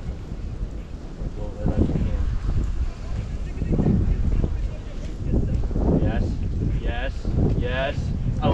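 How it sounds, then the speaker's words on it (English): Wind buffets the microphone on a riverside disc golf course, a continuous low rumbling roar that persists while people talk over it. "Gotta worry about that wind to ride it over."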